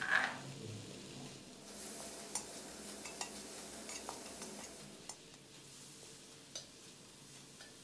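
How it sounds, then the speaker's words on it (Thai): Curry paste for chicken and pickled bamboo shoot curry being stir-fried in a wok, giving a quiet, steady sizzle with a few soft scrapes and taps of the spatula against the pan. "ตั้งกระทะนะครับใส่เครื่องแกงของเราลงไปคั่วให้แตกกลิ่นหอม"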